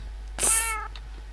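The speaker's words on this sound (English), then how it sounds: "did you hear that meow?" A single Minecraft cat meows once, a short clear mew rising and falling, close and distinct over a low steady background hum.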